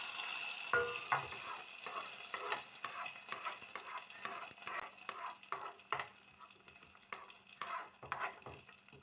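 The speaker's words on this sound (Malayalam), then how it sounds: "ഇനി കറിയിലേക്ക് കടുക് താളിച്ച് ചേർക്കാം" Mustard seed tempering with onion, curry leaves and dried chillies poured into a lentil, tomato and snake gourd curry, sizzling close up under a run of sharp repeated spoon scrapes and stirs.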